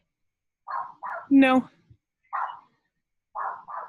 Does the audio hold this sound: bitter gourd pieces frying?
no